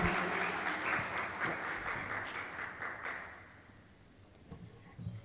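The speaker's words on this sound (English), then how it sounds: "Keep clapping, keep clapping, keep clapping." An audience applauds as a speaker comes on stage, a full, steady burst of clapping from many people that gradually fades over several seconds, leaving a few last claps.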